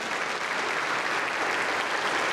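A church congregation applauds during a sermon, a dense, even wash of many hands clapping that holds steady throughout without any voices rising above it.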